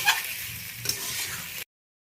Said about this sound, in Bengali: এক দুবার নেড়ে এইভাবে নামিয়ে নেব